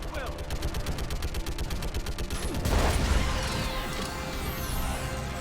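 Rapid gunfire in Mass Effect 3, a long stream of sharp repeated shots that breaks into a heavy crash and rumbling battle noise, with a voice speaking during the firing.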